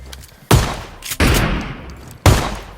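Three loud shotgun blasts from PUBG Mobile, each a sharp booming crack with a short decaying tail, spaced roughly a second apart, with no talking.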